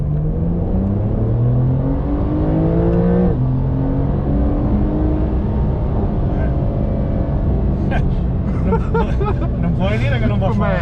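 A Porsche 911 Carrera 4 of the 992 generation with 385 hp accelerates on a public road, its engine note climbing through the gears with a shift around three seconds, loud and steady while occupants talk over it.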